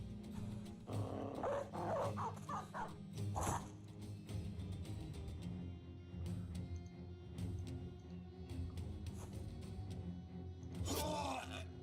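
War dogs bark and growl in a Battle Brothers fight, their calls tangled in a dense, steady wash of battle noise and clashing effects, with a few louder yelps standing out.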